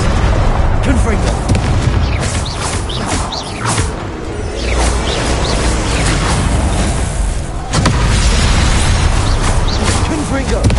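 Confringo spell blasts from the video game Hogwarts Legacy: a loud, nearly continuous barrage of booming bursts and whooshing swishes, crowded closely together for the whole stretch.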